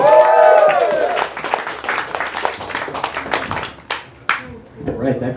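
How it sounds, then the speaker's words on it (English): An audience at a New York City standup comedy show claps for a comedian taking the stage, with a brief burst of applause that fades quickly as a voice speaks over it. "that clapping stopped immediately"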